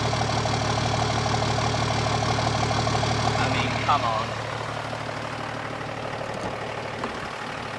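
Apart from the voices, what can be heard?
Toyota Land Cruiser exhaust note at idle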